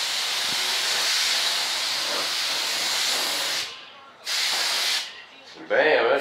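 Spray gun laying a cover coat of paint on an RC model F-105 Thunderchief jet: a steady loud hiss of spraying for several seconds, broken by short pauses, then a brief burst before a voice speaks.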